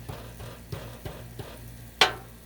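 Shrimp fried rice sizzles on a Blackstone griddle while a spatula scrapes and stirs in a steady rhythm of soft taps, closing with one sharp, louder metallic clack.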